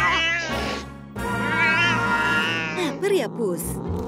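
A hungry cat meows loudly and repeatedly, long drawn-out cries close to the microphone during a cat food commercial shoot, with a voice speaking over part of it.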